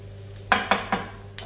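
A utensil stirs dried garlic through onions frying in a pan, giving three or four quick scraping strokes at a steady rhythm over a low, even sizzle, close and moderately loud, with no voices.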